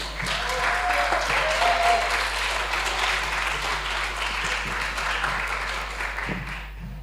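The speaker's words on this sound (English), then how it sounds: "Give a round of applause for the St. Vincent Grammar School Sports Wave." Audience applause at a school coding competition's prize-giving ceremony, a full steady roar of clapping that holds for about seven seconds and tapers slightly at the end.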